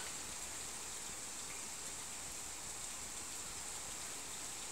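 Steady heavy rain with churning, swirling water: a continuous broadband hiss and rush that holds level throughout, with no voices.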